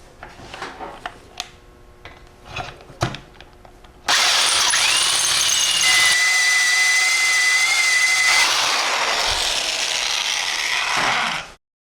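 A few scattered ratchet-like clicks, then a power drill with a 3/8 bit whines loudly and steadily for about seven seconds, drilling into a Powerglide transmission case, before stopping abruptly.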